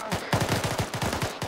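Arma 3 video game gunfire: a rapid burst of automatic shots, roughly a dozen sharp reports in quick succession, loud and close, with no talking over it.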